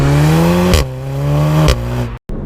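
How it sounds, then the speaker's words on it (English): A Volkswagen Golf R Mk7 four-cylinder engine with a DSG gearbox roars loudly and close, holding a deep steady drone, with two quick gear shifts breaking the tone. "I've never heard a 4-cylinder engine sounding anything like that. It sounds like it's got at least 5 cylinders, it roars."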